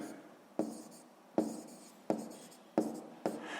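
Pen strokes scratch across notebook paper while a math solution is written out, five distinct scribbling bursts at a regular rhythm, close and quiet.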